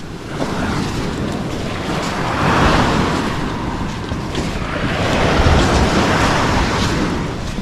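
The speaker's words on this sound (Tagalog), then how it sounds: "Punta muna tayo dito sa tabing dagat." Surf rolls in along a seashore in continuous broadband wash, swelling louder around the third and sixth seconds, with wind noise buffeting the microphone and no voices.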